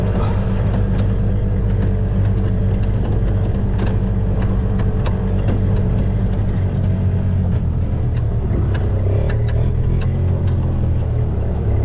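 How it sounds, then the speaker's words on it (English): A Yamaha G1 golf cart floored to full throttle, its engine a loud, steady, continuous drone with a low rumble throughout and small clicks and rattles over the top, close by with no talking. "So I'll floor it to show you the speed"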